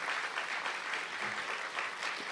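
A conference audience at a 2016 prisoner reentry event applauds the arriving Mayor of Newark, a steady even wash of many hands clapping, fairly soft and a little distant, with no voices standing out.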